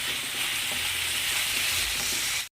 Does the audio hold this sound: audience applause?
no